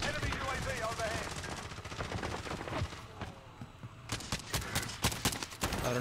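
Rapid bursts of automatic gunfire in the battle-royale video game Call of Duty Warzone, sustained at first and then broken into sharp separate cracks near the end, with voices talking over the shooting.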